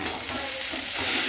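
Dried fish frying in oil with chilli, onion paste, salt and turmeric in a pan, giving a loud, steady close sizzle with soft stirring movements.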